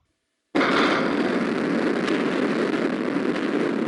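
A Roblox game explosion sound effect bursts in suddenly after a brief silence, then holds as a loud, continuous broadband roar with no talking over it.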